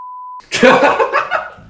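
A steady electronic censor beep sounds alone briefly, then cuts off as people laugh and chuckle.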